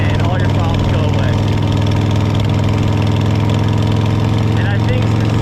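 A 1999 Buell X1 fuel-injected motorcycle engine runs loud and close, a steady throbbing idle that rumbles on without pause while a person talks over it.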